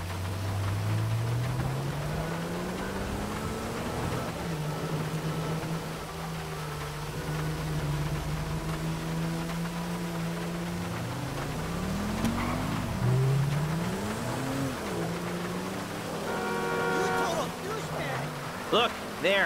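Car engine from a driving sequence in the video game GTA 5, humming steadily with rising and falling pitch as it accelerates and shifts, with speech over it and game effects near the end.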